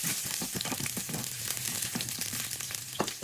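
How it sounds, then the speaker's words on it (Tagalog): Ginger, garlic and onion sauté in hot oil in a pan, a bright steady sizzle broken by light crackles and stirring scrapes, close and moderately loud with no talking. "Igisa una ang luya, isunod ang bawang at sibuyas"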